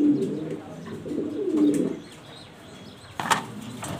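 A male pigeon coos in low, throaty rolling phrases nearby, followed by a brief rustle or flutter; no talking.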